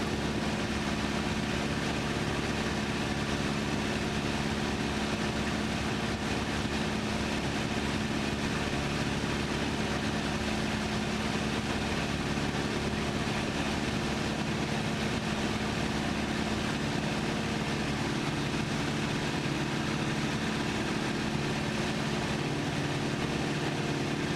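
Engine of a Piper J3 Cub upgraded to 85 HP, throttled back to about 2,000 RPM in level cruise, a steady loud drone with propeller rumble filling the cabin throughout.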